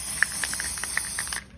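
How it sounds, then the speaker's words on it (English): Craft Bond spray adhesive hisses steadily from an aerosol can onto craft foam in one continuous close spray, with small clicks and ticks along the way, cutting off near the end. "This is just some Craft Bond spray adhesive."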